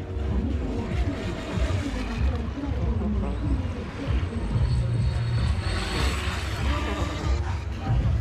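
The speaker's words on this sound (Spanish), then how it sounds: "Aquí estamos otra vez con la lancha de Alex." An outboard motorboat engine drones steadily as the boat runs on the water at a beach, a loud continuous rumble with wind and water noise throughout.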